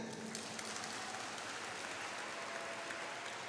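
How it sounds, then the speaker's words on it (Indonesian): A crowd at a religious gathering claps in a continuous, even burst, heard distantly and fairly faint with no speech over it. "Tepuk tangan."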